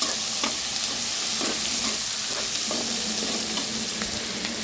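Garlic and ginger sauté in a pan with a constant, close sizzle, marked by regular clicks of stirring. No voices are present.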